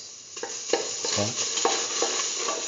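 Cardamom pods and banana pieces sauté in a pan with a close, steady sizzle broken by repeated stirring scrapes and taps, and no voices.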